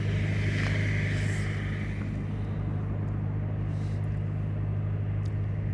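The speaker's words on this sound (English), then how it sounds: "Here you have an aeroplane landing every few minutes." An aeroplane comes in to land, its distant, steady engine roar a broad, constant drone that holds at an even level from start to finish, with no voices.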